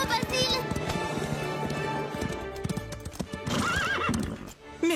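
Horses in the French-dubbed children's cartoon Horseland galloping with rapid clip-clop hoofbeats and shrill neighs and whinnies, loud and near, with people speaking French over the commotion.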